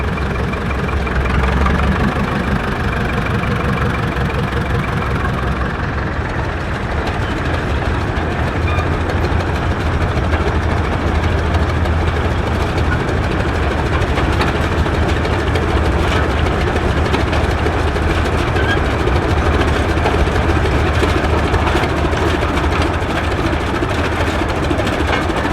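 A restored 1951 Farmall antique tractor called Big Red, owned by Pat and Nancy Stickles, runs in a roadside antique tractor parade in Maryland. Its heavy engine gives a loud, continuous, low rumble that stays steady throughout.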